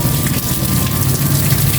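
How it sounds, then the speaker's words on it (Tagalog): Heavy rain pours down in a dense, steady hiss, drumming on a surface without pause. "Kita nyo naman ang buhos ng ulan."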